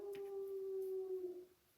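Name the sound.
hound dog howling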